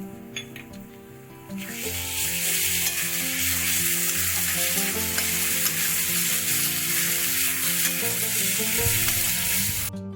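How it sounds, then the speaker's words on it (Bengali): Crushed ginger, garlic and chili sizzle loudly and steadily in a hot oiled pan, with a quieter start before the frying swells and holds to the end. "এটাকে আমি 1 মিনিট মতো ভেজে নিয়েছি"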